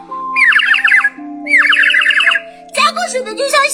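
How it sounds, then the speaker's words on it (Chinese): A water-filled toy bird whistle is blown in two warbling, trilling bursts that sound like a chirping bird, loud and close, followed by a few more chirps with a voice talking briefly at the end. "加过水的就像小鸟的声音"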